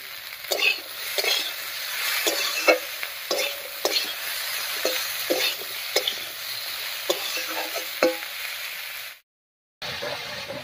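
Boiled cauliflower stalks stirred in a frying pan with spices, a steady sizzle under repeated scraping clicks of a spoon against the pan, closely recorded, with a brief silent gap near the end.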